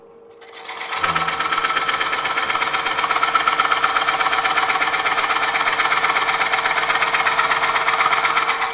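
A wood lathe spins a bowl blank at around 500–600 RPM while a Woodcut Bowlsaver coring tool cuts in. After a brief quiet start it settles into a steady, loud, close mechanical whir with a fast rhythmic chatter that runs unbroken.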